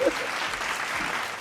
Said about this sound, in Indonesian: Boleh tepuk tangan yang ada di sini.